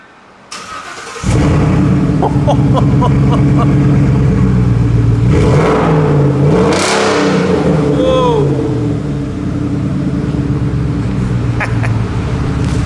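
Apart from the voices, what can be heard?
Ford F150 truck engine starting and revving with no exhaust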